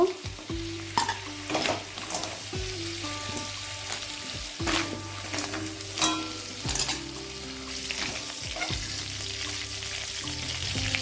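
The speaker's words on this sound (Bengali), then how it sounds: "এইভাবে একটু ভেজে তুলব কাঁকড়াটাও ভেজে নিয়েছি" Crab pieces frying in mustard oil in a kadai for a Bengali crab curry, a steady loud sizzle with repeated stirring scrapes and clatters throughout.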